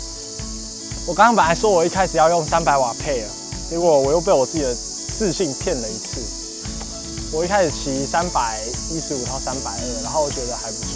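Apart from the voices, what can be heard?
loud cicadas chirping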